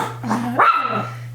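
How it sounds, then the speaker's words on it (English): A dog gives one short, close bark rising into a whining yelp, loud and alone over a steady low hum. "It's a symphony. It is a dog symphony."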